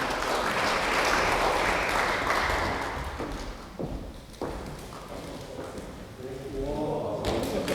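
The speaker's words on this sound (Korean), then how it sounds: "큰 박수 부탁드립니다." Applause at a Hanshin University 86th anniversary award ceremony, clapping that swells early and then thins, with a few thumps and a voice speaking over the end.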